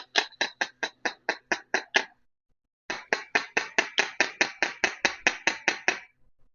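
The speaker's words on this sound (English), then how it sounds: "these pivot pins need a tiny tap with a hammer" Rapid, sharp metallic hammer taps on a Yamaha TZR 250 carburettor pivot pin in two quick bursts, about eight strikes, a short pause, then around fourteen more, close and crisp.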